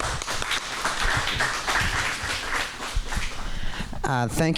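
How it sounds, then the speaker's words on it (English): An audience applauds at a community engagement forum, with scattered, uneven clapping and taps through most of the span and a voice breaking in at the end. "let's give them a round of applause"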